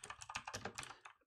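Quick burst of keystrokes on a computer keyboard as a command is typed for a Raspberry Pi Zero W, about a dozen close, crisp clicks in rapid succession with no talking.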